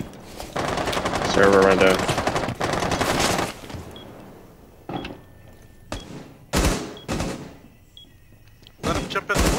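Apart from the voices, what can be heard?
gunfire in video game Rainbow Six Siege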